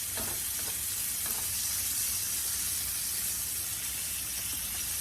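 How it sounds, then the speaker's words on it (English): Catfish sizzling and frying in a pan with jerk seasoning, a steady, close, continuous crackle and hiss with faint stirring clinks, no voices. "Let that fry up"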